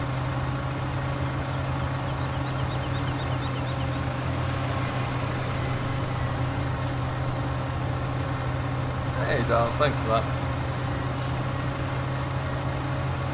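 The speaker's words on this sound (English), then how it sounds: "these tractors are a little loud" Steady low engine drone of tractors idling throughout in Farming Simulator 17, with a brief hiss near the end and someone speaking briefly over the rumble.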